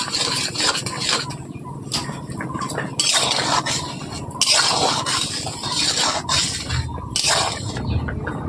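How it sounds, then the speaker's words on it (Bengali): Gobindobhog rice simmering in cow's milk for payesh is stirred steadily with a utensil, giving continuous clinking and scraping against the pot, loud and close, with no one speaking. "বন্ধুরা দেখতেই পাচ্ছেন আমি ঘন ঘন নেড়ে নিচ্ছি, চালটা যাতে ভালোভাবে ছিঁড়ে যায়।"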